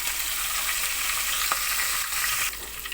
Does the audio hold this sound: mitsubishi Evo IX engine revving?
no